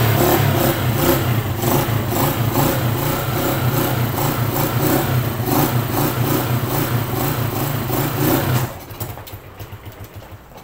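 A motorcycle engine fitted with a new clutch lining drones and revs steadily at close range, pulsing rhythmically, then drops abruptly to a quieter, rougher idle near the end.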